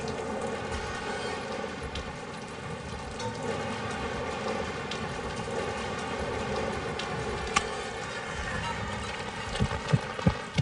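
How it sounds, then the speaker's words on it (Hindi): Steady, dense heavy rain pours across the whole stretch, a constant broadband hiss with a few sharper drips and knocks near the end, and no voices over it. "क्या बारिश है"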